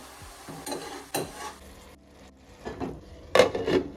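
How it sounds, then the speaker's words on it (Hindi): Green vegetables stir-fry in a pan, with scattered scraping stirs and a loud clatter near the end over a faint, steady sizzle, and no talk. "अब हम डालेंगे सब्जी को स्टर करेंगे"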